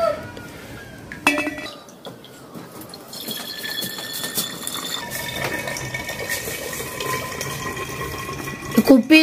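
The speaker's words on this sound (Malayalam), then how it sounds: "ഇപ്പൊ ഒരു ഗ്ലാസ് എടുത്താണ് നമ്മളിപ്പോ കുപ്പിയിലേക്ക് ഒഴിക്കുന്നത്" Homemade grape wine poured from a glass into a bottle, liquid trickling and splashing with glass clinks, a quiet start building to steady pouring and louder clinks at the end.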